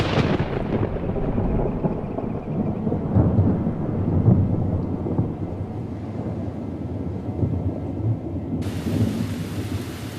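Heavy rain pours over the Inner Hebrides islands while thunder rumbles deep and rolling, the downpour a dense steady hiss that carries on between the booms.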